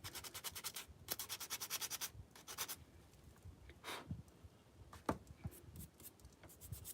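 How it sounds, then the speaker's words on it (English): Hand sanding of a small secondhand craft piece from a thrift store: quick rhythmic rasping strokes come in bursts, then taper off into scattered scrapes and taps, close and fairly quiet. "So I sanded it a little bit."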